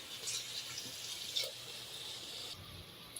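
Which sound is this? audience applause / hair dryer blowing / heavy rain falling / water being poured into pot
water being poured into pot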